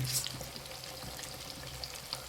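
Kuchchi fish frying in a pan, village-style seafood fry: a continuous crackling sizzle with tiny popping spatters, close and steady throughout, with no talking.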